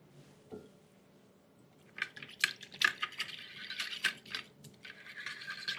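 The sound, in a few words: mixing pork chop and rice casserole with a big fork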